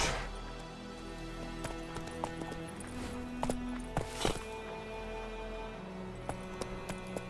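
Clip-clop hoofbeats of Geralt's horse Roach in The Witcher 3, a steady walking rhythm with occasional sharper hoof strikes over a low background hum, moderately close and fairly quiet.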